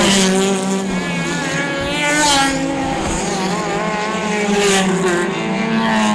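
Hotrod race cars roar around a circuit during a night championship race, loud engines howling and shifting pitch as they pass close by, with a continuous layered drone of several cars and no talk.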